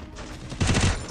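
A short burst of rapid video game gunfire crackles loudly, several shots packed together in a quick volley against a steady background hum.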